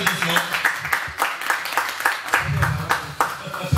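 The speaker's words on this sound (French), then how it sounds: "un grand applaudissement" Audience clapping at a certificate ceremony comes in uneven bursts, mixed with background music and voices.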